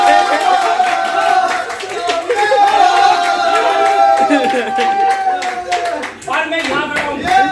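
An audience claps at a network marketing gathering, a fairly loud patter of hands mixed under a prominent voice and tonal background sound.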